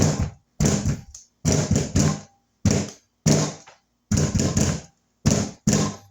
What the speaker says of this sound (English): Now we're going to knock some of the air bubbles out of it.